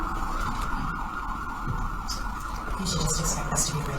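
An emergency vehicle siren passing outside a Denver courthouse during a hearing, a steady wailing tone heard under ongoing talk, with rising high chirps toward the end.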